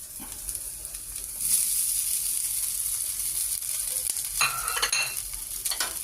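Meatloaf fries in a pan with onion and ginger, giving a steady close sizzle and hiss that swells after a moment, with occasional stirring scrapes and clatter breaking through.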